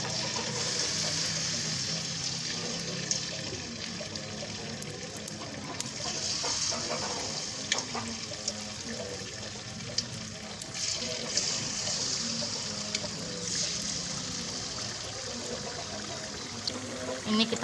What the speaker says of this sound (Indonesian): ini adonan kita tadi udah jadi, kita lanjut aja mau goreng ya.